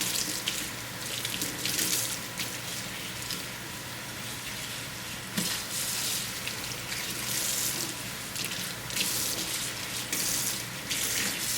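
Hot tap water pours steadily into a bathroom sink to soak a synthetic wig, a continuous close splashing hiss with small shifts in flow and no talk.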